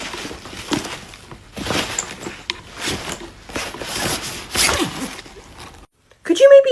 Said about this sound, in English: Where is the zipper on this damn bag?